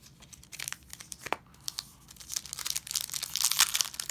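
A Pokemon Shining Fates booster pack is torn open and crinkled by hand, close crisp foil rips and crackles that grow busier and louder toward the end.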